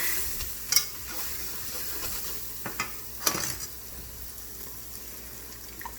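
A roux is stirred in a hot pan with a soft continuous sizzle, while occasional scrapes and clinks of the utensil against the pan stand out above the low frying hiss.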